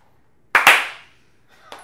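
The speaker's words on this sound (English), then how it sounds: "You go ahead and clap." Hand clapping by a performer asked to clap on camera, two sharp close claps in quick succession with a short ringing tail, followed by a fainter third clap a moment later.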